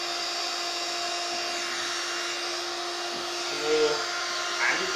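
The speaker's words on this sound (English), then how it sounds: "This is the exact time which it took to inflate this bed" An electric pump inflates a queen-size Intex outdoor airbed, a steady close whining motor hum with an even airy hiss that holds constant throughout, with a brief faint voice near the end.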